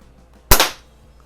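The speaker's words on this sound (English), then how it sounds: "Just having so much fun playing with my air guns." One sharp, close shot from a Daisy BB air gun, a Model 101 Model 36 or a Model 102: a single crisp crack that fades quickly, heard alone without talk.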